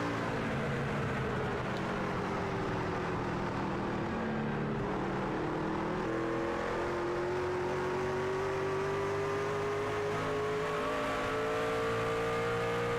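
A racing truck engine in the iRacing sim, heard as a continuous loud drone with pitch sweeping down and then climbing again through downshifts, alone without talk.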